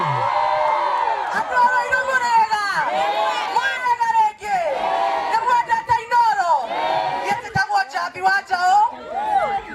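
An excited crowd, mostly women, at a live country music performance whoops and shouts loudly in overlapping bursts, with voices talking and calling out among the cheers.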